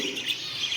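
Very young exotic birds in an aviary give faint, thin chirps, a couple of soft high peeps over a steady hiss of background noise.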